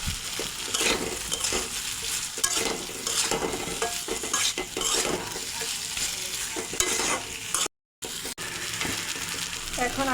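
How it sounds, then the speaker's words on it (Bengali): Fried potatoes hit sizzling spiced masala for a Bengali tengra fish curry, with steady frying hiss and repeated stirring scrapes of a utensil in the pan, close and continuous, broken by one brief dropout. "এখন ভেজে রাখা আলু দিয়ে দেবো।"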